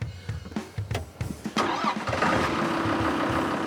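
A diesel engine, started on a small machine with forward and reverse gears, cranks with several uneven bursts, then catches and settles into a loud, steady idle up close.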